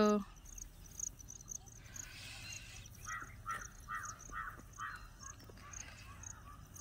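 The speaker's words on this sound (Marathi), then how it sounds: "पक्ष्यांचा चिवचिवाट." Birds chirp in short repeated calls outdoors by a small farm pond, over steady insect buzzing and faint background noise.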